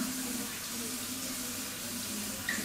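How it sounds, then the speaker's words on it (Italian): Tap water runs steadily into a sink while a face is rinsed after shaving, a continuous close splashing hiss with no talk. "Sciacquata, l'acqua era fresca"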